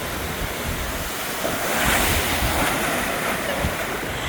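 Waves breaking on the sand at Lara Beach in Antalya, Turkey: a loud, continuous roar of surf with hissing wash and wind buffeting the microphone, and no speech.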